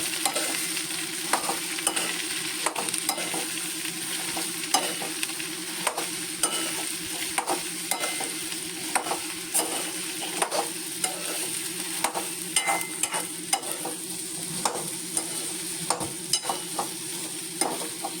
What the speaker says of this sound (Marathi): आता हे भेंडे चांगले परतून घेतलेले आहेत